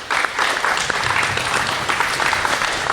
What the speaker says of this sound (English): would you please join me in giving a big round of applause to Sergeant Joe Crawford